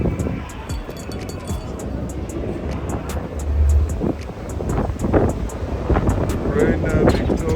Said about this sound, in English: It's gotten kind of windy.